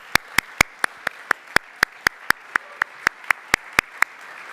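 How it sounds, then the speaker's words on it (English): Steady, evenly spaced claps ring out one after another at the Toronto Metropolitan University alumni achievement awards ceremony, a single sharp clap roughly every quarter second, clear and close with no voices over them. "give you a big round of applause"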